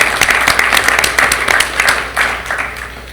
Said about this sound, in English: There'll be some applause tonight.